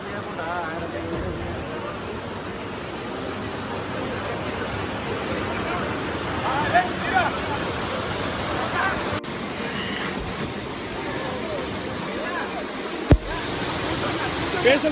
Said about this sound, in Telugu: రాచకొండ వాటర్ ఫాల్స్ ఇవి.